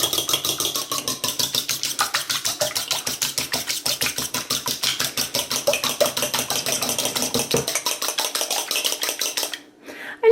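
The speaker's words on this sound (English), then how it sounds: "using my fork, just going to whisk them up a bit" A fork whisks three eggs in a dish, giving rapid, even clicking and scraping strokes that continue close and loud for several seconds before stopping abruptly.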